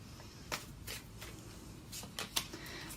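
Tarot cards are drawn and shuffled, giving a few soft, quick riffling swishes and flicks, close and fairly faint, with no talk.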